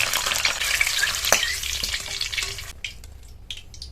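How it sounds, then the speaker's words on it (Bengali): Green chilies crackle and sizzle as they fry in hot oil in a home kitchen pan, a dense steady spatter with a few sharp pops, settling into softer, sparser bubbling near the end. "এর মধ্যে 4টে কাঁচা লঙ্কা ভেজে নেব দিয়ে।"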